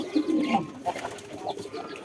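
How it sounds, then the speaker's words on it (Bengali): A Jalali pigeon coos softly while feeding its chick, a few short low throaty coos and faint rustling, close and brief. "ওইখানে একটা কবুতর তার বাচ্চাকে খাওয়াচ্ছে"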